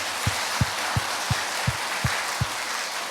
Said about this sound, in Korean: 우리 다 같이 박수 한번 치면서